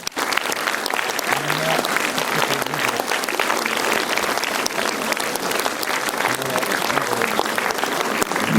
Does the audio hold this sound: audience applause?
yes